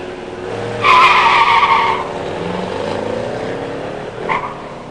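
Drag race launch between a 1972 Mach 1 with a 351 and 4-speed and a 1969 Malibu with a 350 automatic, a sharp tire squeal and engine roar near the start, then engine noise carrying on and fading.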